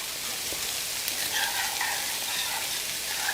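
Beef and broccoli stir-fry sizzles steadily in a pan as it is stirred, a continuous hissing fry with faint scraping and no talk.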